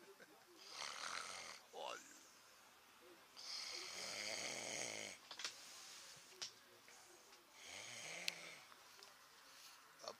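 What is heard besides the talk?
man snoring loudly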